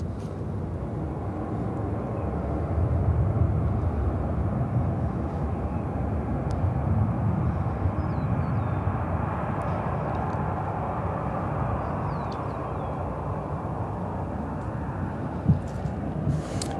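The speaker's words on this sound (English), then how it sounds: "We have ANA flying over us." An ANA airliner flies overhead at Chicago O'Hare, a sustained low jet rumble that swells slightly early on and then holds steady, fairly far off, with no talking.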